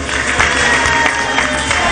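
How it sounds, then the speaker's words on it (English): Dense applause from a crowd at a party congress gathering, steady and loud for the full short stretch, with claps blurring into one continuous wash. "Shall we give them a big hand of applause?"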